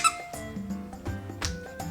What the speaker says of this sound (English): These little squeaky toys.